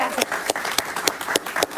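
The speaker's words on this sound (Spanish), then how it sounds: "Un aplauso para Saraí" A studio audience gives a Venezuelan activist brief, sparse applause on a television interview show, with distinct individual claps in a quick irregular rhythm.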